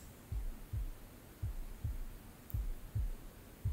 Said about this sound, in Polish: Słyszysz tylko jej puls.